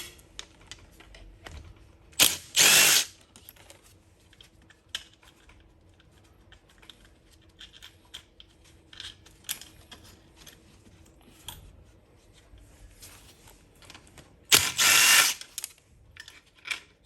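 Bolts on a Vespa GTS are loosened one after another in a crosswise pattern, two loud ratcheting bursts of a couple of seconds each standing out against faint clicking and near silence.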